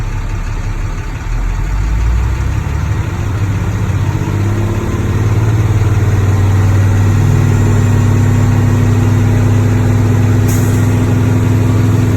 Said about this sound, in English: What I would do now is rev my engine up between 12 and 15 RPM